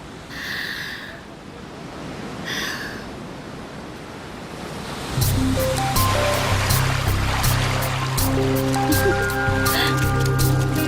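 Sea waves wash and surge steadily, a broad continuous roar that swells louder partway through as music-like tones rise over it.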